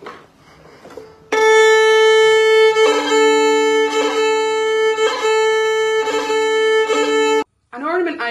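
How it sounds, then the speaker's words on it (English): Irish fiddle tune with a grace-note ornament, the fourth finger bouncing off the string for a quick double or treble hit, played solo and close for several seconds with sustained bowed notes and brief rhythmic flicks. "using the fourth finger and bouncing it off the string, creating any double, sometimes like treble hit"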